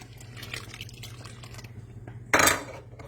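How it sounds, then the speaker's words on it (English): White vinegar poured into a pot of hot pea mixture, a short splashing pour bursting in near the end after soft trickling, drips and light clinking at close range. "I'm going to be dumping in my white vinegar"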